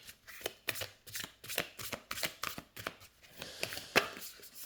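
Matte oracle cards being shuffled by hand, a quiet, close series of soft rhythmic riffling and slapping strokes repeating steadily.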